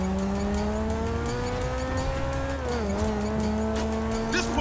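Monster motorbike ridden in Grand Theft Auto V, its engine holding a steady droning pitch that dips slightly, then climbs again as the bike keeps moving, loud and close.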